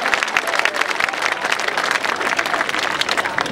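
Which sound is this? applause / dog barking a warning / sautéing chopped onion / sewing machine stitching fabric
applause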